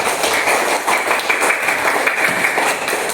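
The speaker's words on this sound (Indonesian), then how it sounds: "Tepuk tangan semuanya." Classroom group clapping hands together, a dense, steady patter of many claps lasting a few seconds, fairly loud and close, with no talking over it.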